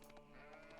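Sheep in a video game give a faint, steady bleat over a continuous electronic game background, with no talking.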